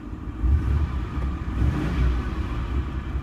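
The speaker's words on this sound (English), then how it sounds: "because it's such a heavy engine, and I mean in power, you can hear a slight humming all the time." A 1984 Land Rover 110 station wagon's V8 petrol engine hums steadily, a low continuous rumble with slight rises and falls in intensity and no voices.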